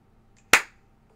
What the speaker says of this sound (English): Can you do a slower and lower so it can be a slow golf clap?